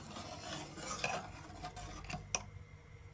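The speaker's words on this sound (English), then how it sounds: "Give it a stir." Spoon scraping and clinking around a pot as coconut milk is stirred in for Jamaican rice and peas with pigtail, soft steady stirring with a few sharper metallic taps, close and alone.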